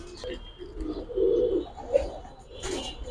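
Giribaz high flyer pigeons give a few soft, close coos over a low background murmur, with short throaty calls rising and fading across a brief stretch.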